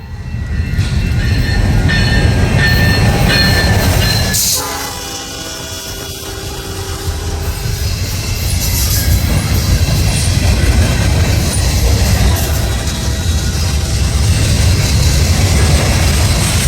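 Classic EMD diesel locomotive on a local freight passing close by, a loud steady roar and rumble of the engine and rolling cars throughout, briefly dipping midway before building again.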